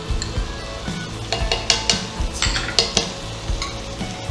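A spoon stirs mutton keema with yogurt and tomato puree in a pan, producing repeated scraping and clinking strokes in a steady rhythm over a soft sizzle.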